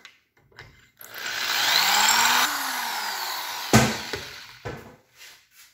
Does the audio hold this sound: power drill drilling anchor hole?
yes